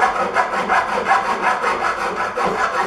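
A file rasps around the inside of a metal ring with steady back-and-forth strokes. The scraping is close, continuous and evenly rhythmic, with no voices.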